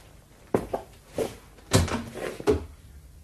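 A door opens in a German horror radio play with a few wooden knocks and creaks, followed by irregular thumps and rattles close by.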